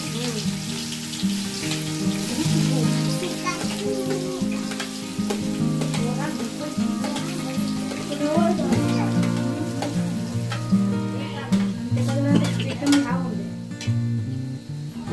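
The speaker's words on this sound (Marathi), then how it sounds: "कांदा छान प्रकारे आपण लालसर भाजून घेतला आहे" Onions with bay leaf fry in oil in a pot over a wood-fired village stove, giving a steady sizzle and crackle under a tonal background hum, with occasional stirring clatter.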